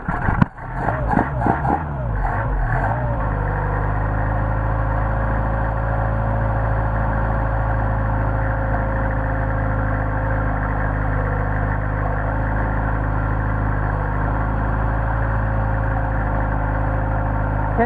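A cold Mercedes 190SL with Solex carburetors starts and settles into a steady warm-up idle on a freezing morning, a few sharp cranking bursts up front giving way to an even, loud, low engine drone that holds unchanged.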